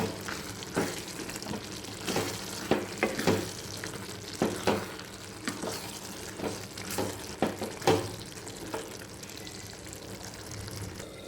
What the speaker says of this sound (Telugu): ఇప్పుడు మొత్తం మిక్స్ చేసేద్దాం